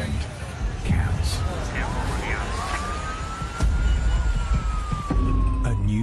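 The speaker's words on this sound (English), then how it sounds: "We're coming on blue lights and sirens, so we're going to be there as quickly as we can." Ambulance siren on blue lights, a rising and falling wail sweeping through the scene amid traffic noise, moderately loud and steady across the stretch.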